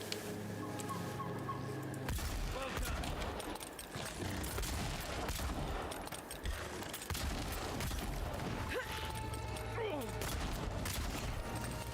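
Several guns firing in a video game, rapid sustained bursts of shots and impacts layered over game music, with a brief pause before the firing picks up again.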